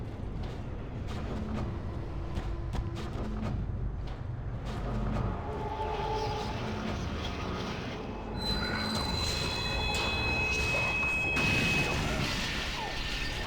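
Train ride in the video game Doom 3: a steady loud rumble of rolling rail cars throughout, with squealing wheels and metallic crashing and clanking building up toward the end.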